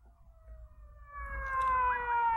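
Police siren in the 1959 film The Giant Gila Monster, a rising electronic wail that climbs in pitch and swells louder over a couple of seconds above a low rumble, with no voices.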